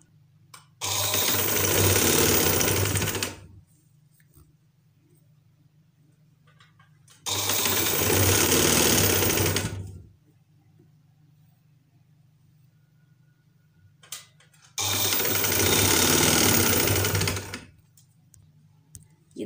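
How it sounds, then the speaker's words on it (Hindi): Sewing machine stitching a frill onto a sleeve runs in three steady bursts of a few seconds each, loud and close, separated by near-silent pauses with a faint low hum. "उस पर आप लोग जो है स्टिच करते जाओ।"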